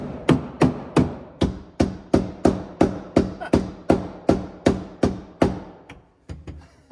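A rubber hammer knocks a truck window seal into its groove on a Peterbilt 359, about fifteen sharp, evenly spaced blows close up, slowing and softening into a few lighter taps at the end.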